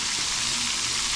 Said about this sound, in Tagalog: at habang nagpiprito tayo doon ng ating tilapia ng huli